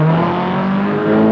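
A Datsun rally car in the 1983 NBN 300 Rally accelerates away with a loud, close engine roar that holds a rising, revving tone for just over a second.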